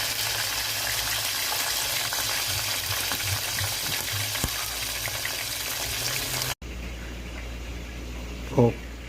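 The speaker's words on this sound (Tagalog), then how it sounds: "First fry." Chicken feet frying in hot oil for a first fry, a steady dense sizzle that carries on for about six seconds, then a quieter stretch with a brief clink near the end.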